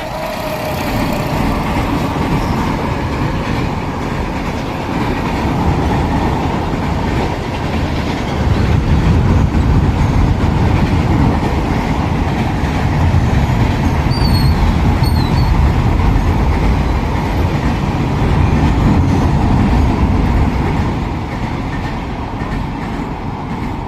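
A train passes close by for the whole stretch, a loud continuous rumble with rattling wheels and a deep low roar that never lets up.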